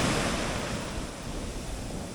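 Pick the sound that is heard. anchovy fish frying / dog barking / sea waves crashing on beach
sea waves crashing on beach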